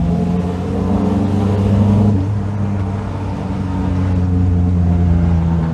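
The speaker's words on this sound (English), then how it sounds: "They would do the same sort of trumpet on the exhaust overrun" Exhaust of a 1098cc Morris Minor Traveller classic car trumpeting on the overrun as it gathers speed, a loud close droning burble with steady low tones that shift in pitch partway through.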